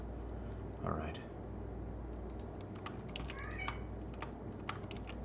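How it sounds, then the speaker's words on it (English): A house cat meows faintly in the background, a couple of short rising calls half-hidden beneath steady computer keyboard typing and a low room hum. "You hear my beautiful cat meowing in the background."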